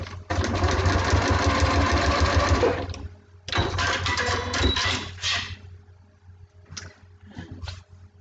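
A sewing machine stitches fabric in a loud, steady mechanical run that stops abruptly, then resumes for a shorter burst, followed by a few brief isolated whirs and clicks.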